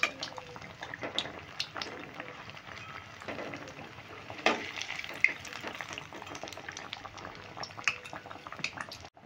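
Food fries in oil over medium heat, a soft continuous bubbling and sizzle with scattered pops and clinks of tongs stirring close by, fairly quiet overall.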